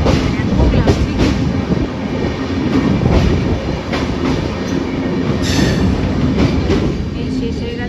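A passenger train in northern West Bengal near the Teesta River and New Mal Junction runs loudly along the rails, with a continuous rumble and a rhythmic clatter of wheels, heard from on board and close, with no talk.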